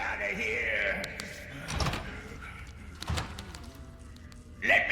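A door of a hiding place closing in a horror video game: a couple of dull thuds and sliding knocks, moderately close, with a louder knock at the end and talk over the background.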